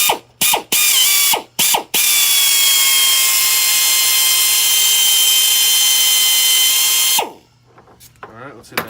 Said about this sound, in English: I bought a bore polisher, I think they're called